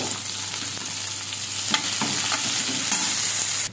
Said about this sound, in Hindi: अब मैं इसमें डाल दूंगी बारीक कटी हुई प्याज।